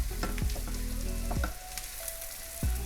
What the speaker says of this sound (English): just mash it with the spatula